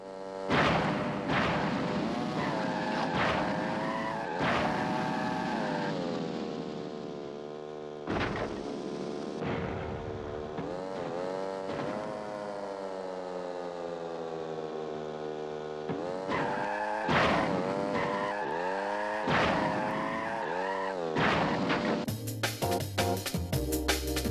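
Karts race in the Crash Bandicoot kart racing game from Naughty Dog, with engines whining and rising in pitch and tires skidding almost without a break. The sound is loud and full, game effects with no voices.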